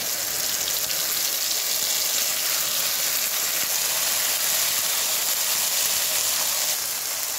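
Bowl-rinse water poured into frying onion and masala in a West Bengal village kitchen sets off a loud, steady rushing sizzle that fills the whole stretch without a break.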